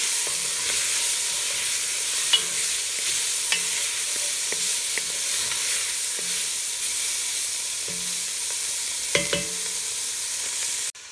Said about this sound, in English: Give it a good stir.